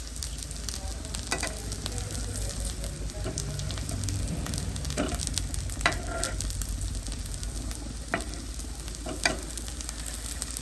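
Food frying in olive oil being stirred and turned in a pan, a continuous close sizzle with scraping and clinking spatula strokes at irregular intervals, no talk.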